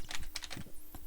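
Quick, light clicking of computer keyboard keys, a rapid close run of soft taps in a quiet room.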